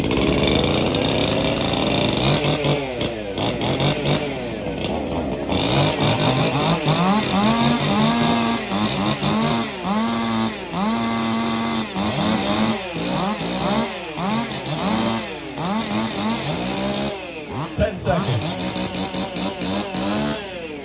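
Several 50cc racing chainsaws warm up before a final heat at a chainsaw racing event, engines snarling loudly in repeated rev bursts that rise and fall, overlapping and close.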